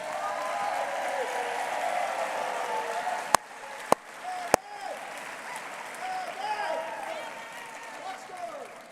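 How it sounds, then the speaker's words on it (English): Applause from an audience at an evening event, a dense steady clapping that fills the room, with a few sharp louder claps standing out midway, and no talk over it. "I know why you're clapping."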